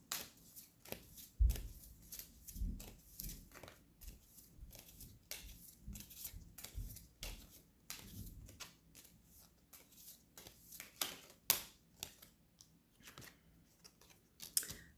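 Tarot cards being shuffled by hand, a quick, steady riffle of papery slaps and flicks, close and quiet, with no talking.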